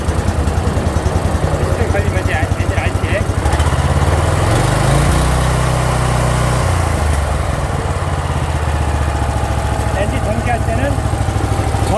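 A Honda GX390 engine driving a 4-inch water pump with key electric start, starting up and then running with a steady loud droning chug throughout, with a voice speaking over it at times.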